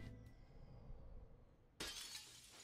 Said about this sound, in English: not the Windows Movie Maker glass break.